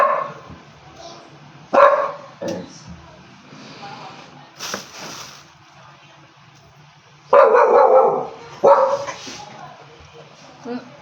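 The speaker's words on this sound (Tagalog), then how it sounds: "Ingay naman ng aso." A dog barks several times in loud, sharp bursts close by, with some whimpering yips between them, while people talk over a meal of jackfruit.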